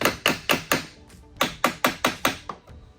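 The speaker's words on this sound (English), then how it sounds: "you can take a mallet and you can kind of gently tap it and start lining up those pins" A mallet gently taps a Yamaha Superjet 701 jet pump into place: two quick bursts of close, sharp knocks, four then six in a steady rhythm, with a short pause between groups.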